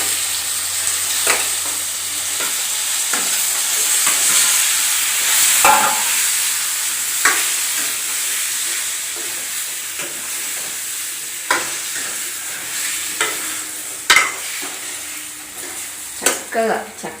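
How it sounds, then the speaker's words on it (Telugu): Tomatoes are added to a sizzling ginger-garlic tempering in oil and stirred, producing a steady close hiss with repeated spatula scrapes and clinks against the pan, and occasional brief voice sounds. "ఇప్పుడు ఇందులో టమాటాలన్నీ వేసుకోవాలి"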